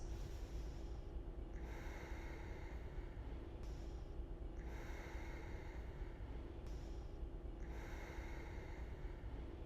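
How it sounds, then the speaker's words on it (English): Three slow, deep breaths during a vinyasa yoga flow, each long inhale and exhale rising and falling audibly close to the microphone in a quiet room. "3 slow, deep breaths."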